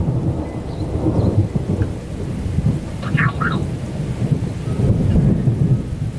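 Heavy thunder rolls and rumbles during a September storm, with rain pattering steadily, from a lightning strike just in front of the observer, deep and loud and continuous with one brief brighter crackle midway.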